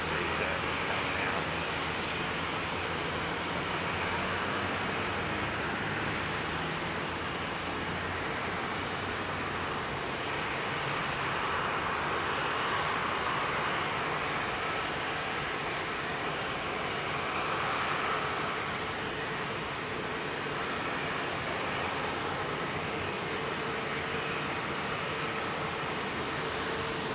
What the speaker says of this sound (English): is that BA A350 1000? Indeed it is, Justin. British Airways